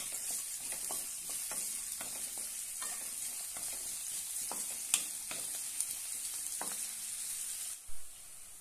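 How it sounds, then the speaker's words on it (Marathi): Finely chopped onion frying in oil with cumin seeds, stirred steadily in the pan, giving a continuous even sizzle broken by scattered scrapes and clicks of the spoon and a louder knock near the end. "त्यामध्ये एक कांदा बारीक कट केलेला आहे तो घालूया। छानपैकी परतून घेऊया।"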